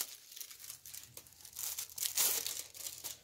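Plastic wrapping crinkles and tears in uneven bursts as a God of War wallet is unpacked from a legendary crate, close and fairly quiet, peaking in a louder rustle near the end.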